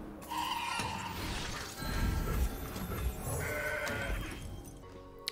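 Mountain Goat card bleats inside the Legends of Runeterra card game, a few warbling, layered animal-like calls over steady game music and effects, moderately loud throughout.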